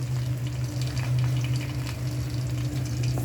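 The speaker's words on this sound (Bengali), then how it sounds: "তেলটা গরম হওয়ার পরে আমি পেঁয়াজ দিয়ে দিলাম" Onions fry in hot oil in a wok, a continuous close sizzle and crackle with a steady low hum underneath and light stirring scrapes throughout.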